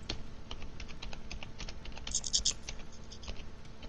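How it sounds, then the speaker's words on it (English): Rapid clicking keystrokes on a computer keyboard patter steadily and close by, with a brief burst of brighter clicks midway and faint background noise. "What are you typing in there?"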